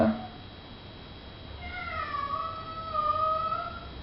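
A cat lets out a long, drawn-out meow that rises and wavers, close and fairly clear, after a brief sound at the start.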